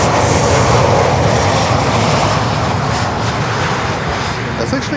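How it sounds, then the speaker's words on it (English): An American Airlines Boeing 737 MAX 8 arrives at Miami airport, its engines a loud, continuous roaring rush that fills the whole stretch. "American Max 8 coming in next"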